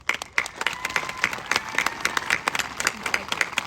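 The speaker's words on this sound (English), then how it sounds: "please give a big round of applause for those who supported us" A graduation audience claps loudly for supporters, dense applause with crisp individual claps close by and a faint crowd murmur underneath.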